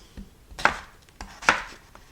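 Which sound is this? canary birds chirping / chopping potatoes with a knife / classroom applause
chopping potatoes with a knife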